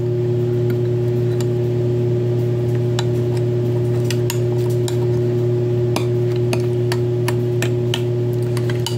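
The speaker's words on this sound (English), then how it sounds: "I'm just going to kind of stir this around." Light clinks and scrapes of a utensil against a pot, irregular and brief, over a steady background hum.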